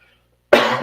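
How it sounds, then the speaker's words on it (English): A single loud, close cough bursts out after half a second of near silence and trails off roughly. "See, you got me coughing now."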